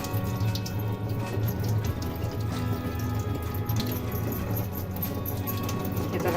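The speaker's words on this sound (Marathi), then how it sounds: "आता हे पण असं स्वच्छ धुवून घ्यायचं आहे." Peeled dried mackerel rinsed clean under running water, a continuous close splashing and trickling with scattered drips throughout, no voices.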